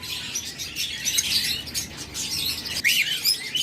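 Caged budgerigars and doves at a bird shop keep up a dense, steady chatter of high chirps and tweets, with a brighter trill near the end and no voices.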